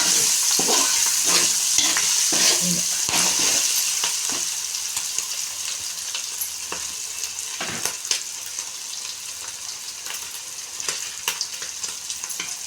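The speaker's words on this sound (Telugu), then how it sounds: "కలుపుకున్నాం మళ్ళీ ఇంకొకసారి అడుగు అంటుకోకుండా" Chicken rice is stirred in a sizzling frying pan so it does not stick to the bottom. A steady close frying hiss runs throughout, with irregular spoon scrapes and taps that ease slightly after the first few seconds.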